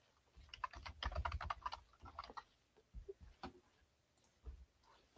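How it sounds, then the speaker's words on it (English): Quick, irregular keystroke clicks on a computer keyboard come in bursts with short pauses, moderately close and alone, with no voices. "Me typing."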